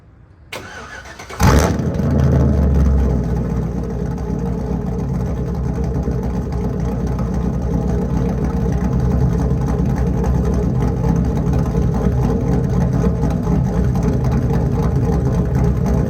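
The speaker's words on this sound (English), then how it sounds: "let me give you guys a startup, show you how it sounds on startup" A cammed GMC truck engine fires up from warm with a sharp crank and catch, then settles into a loud, steady, lopey idle rumbling through a side-exit exhaust, close by with no talking.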